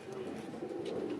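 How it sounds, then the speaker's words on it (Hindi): A pigeon coos softly in a short, low, throaty murmur, fairly faint and close against light background noise. "ये बड़ा कबूतर है हमारा"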